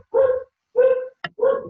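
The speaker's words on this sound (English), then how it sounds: "Apologies about the dog." A dog gives three close, loud barks with short gaps between them, plus a quick sharp click before the last bark. No speech is heard.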